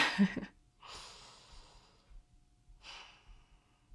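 Soft breaths during a slow hand stretch, with one breath early on, a long gentle exhale, and a second shorter breath near the end, all close and quiet with no talking.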